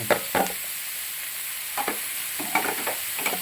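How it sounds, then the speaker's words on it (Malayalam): Grated coconut is stirred into a bitter gourd and dried prawn stir-fry, a steady pan sizzle broken by several short scraping strokes of the spatula, close and alone without talk. "നന്നായിട്ട് ഇളക്കി തിരുമ്മി ചേർക്കാം"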